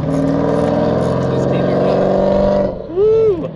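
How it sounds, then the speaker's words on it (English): A Chevrolet Camaro's engine roars steadily as it drives past, loud and close, fading off toward the end, with a voice whooping over it. "How about that Camaro?"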